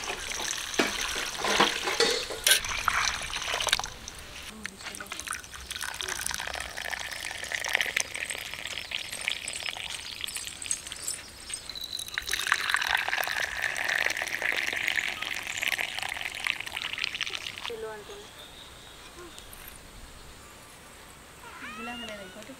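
Water runs from a tap to soak toor dal and tamarind in a Telangana village kitchen. The flow gushes steadily for long stretches, close and moderately loud, then eases off. Faint background noise runs underneath.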